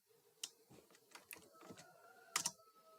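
Computer keyboard typing during a Python programming lesson, a handful of sharp, irregular key clicks close by, with a quick double tap near the end, no voice over it.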